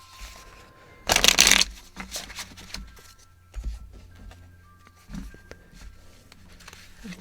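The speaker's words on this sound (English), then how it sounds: "I just want to give it one more split shuffle." A sharp, fast riffle of a double deck of cards being split shuffled, followed by softer taps and handling noises as the deck is squared up, close by.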